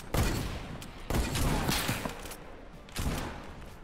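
Gunfire in Fortnite on a cruise ship, dense bursts of rapid shots with heavy impacts, loud and continuous with a few sharper blasts, and faint voices underneath.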